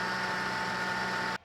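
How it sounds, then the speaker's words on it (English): A V6 120 series Toyota Prado engine with a worn idler or tensioner pulley gives a steady grinding, whirring drone that holds evenly for over a second, then cuts off abruptly. "Have you got a bit of a grindy, whirry noise, a little bit like this,"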